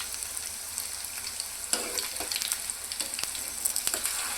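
Mock liver pieces, a meatless imitation of liver fry, fry slowly in a pan with a steady soft sizzle and occasional stirring scrapes, all close and alone without talk.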